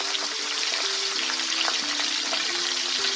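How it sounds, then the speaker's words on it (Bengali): Pabda fish, a soft Bengali river fish, frying in hot oil in a pan, giving a steady close sizzle with crackling spits throughout and a faint tonal hum underneath. "তো আস্তে আস্তে মাছটাকে উল্টে আরও 1 পাশ আমি ভালো করে ভেজে নেব।"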